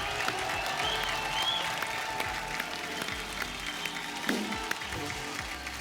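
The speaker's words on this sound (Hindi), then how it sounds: "जुबीन के लिए जोरदार तालियां हो जाए।" Studio audience at a Hindi television comedy show claps in a dense, steady round of applause that carries on evenly for several seconds.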